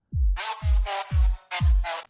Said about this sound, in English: pass sounds like this.